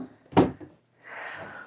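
A drawer in an Atlantic City hotel room slides with a single sharp knock, followed by a soft scraping rustle, close and quiet.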